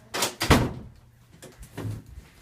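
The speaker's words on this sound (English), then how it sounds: "I heard both of these doors close" Two indoor house doors close in quick succession, giving a pair of dull thuds with a softer knock after them, near and clear with no talking.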